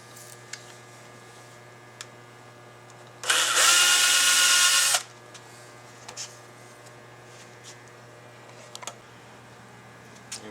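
A power driver whirs loudly for about two seconds while backing out screws on a 1932 Cadillac vacuum pump casting, set between quiet workshop moments with faint clicks and taps.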